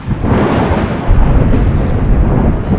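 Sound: thunder during heavy rain

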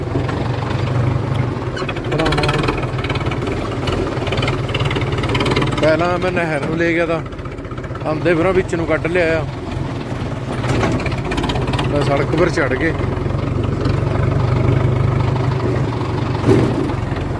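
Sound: tractor engine running while driving to the canal

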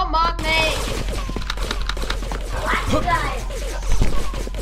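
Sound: explosions and gunfire in a video game

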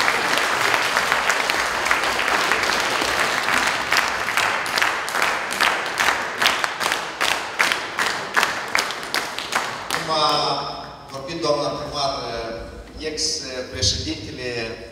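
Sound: audience applause at a village men's day event

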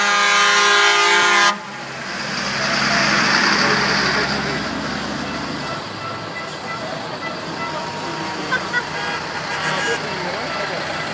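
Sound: car horns honking at the Dakar Rally

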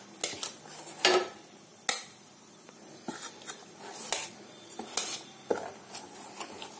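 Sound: mixing buttermilk dosa batter

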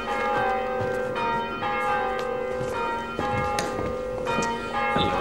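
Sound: church bells ringing, bell ringing practice

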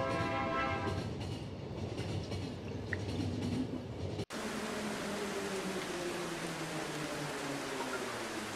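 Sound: passing train in video game The Final Station

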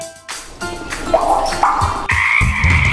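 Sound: frogs croaking

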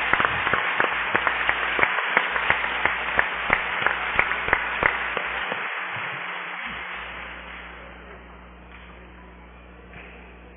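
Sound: audience applause for the women

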